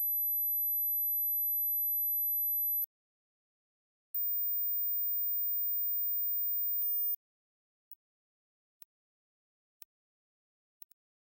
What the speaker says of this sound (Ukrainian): якщо ви чуєте цю частоту, ви здорові та не маєте вад слуху